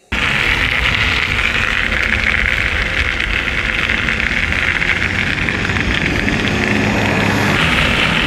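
A Bafang mid-drive motor on a converted Specialized Fuse e-bike whines steadily and loudly while riding at speed, mixed with broadband wind rush throughout.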